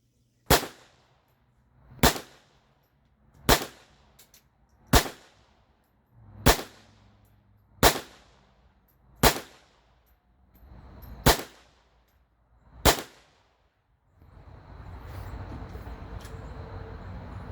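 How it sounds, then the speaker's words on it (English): Nine sharp gunshots fired from an old Ruger Single Six revolver at a shooting range, spaced about a second and a half apart and very loud, followed by a few seconds of outdoor rumble and wind. "then I put a few rounds through the old Ruger single 6 too"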